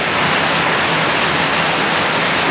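Heavy rain pouring down in a steady, dense hiss, loud and unbroken with no other sounds standing out.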